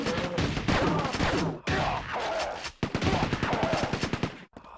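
Repeated gunfire in Quake 2, loud rapid shots in bursts that fill most of the moment, broken by brief gaps, with no one speaking over it.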